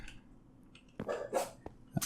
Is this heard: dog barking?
yes